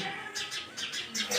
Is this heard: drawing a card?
no